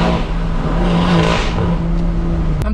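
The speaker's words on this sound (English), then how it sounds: "you got the turbo dumping it like a Darth Vader sound effect, you got the exhaust roaring out the back" A modified BMW revving, with turbo flutter and a roaring exhaust, loud and close, a rising and falling engine note with whooshing turbo dump and a sharp crack near the end.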